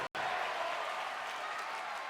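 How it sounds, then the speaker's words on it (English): A wrestling crowd in a New York ballroom roars and cheers in a dense, sustained wall of noise after a brief gap, loud and continuous with blended voices and clapping. "The crowd here chanting for tables"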